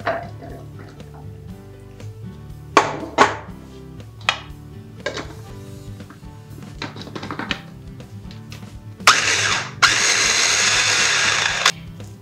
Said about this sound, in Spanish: Ahora vamos a triturar los garbanzos.